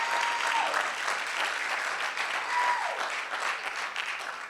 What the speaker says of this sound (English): hearty applause for Pastor Webster